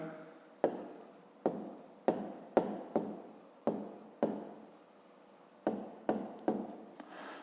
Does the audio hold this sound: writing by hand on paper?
yes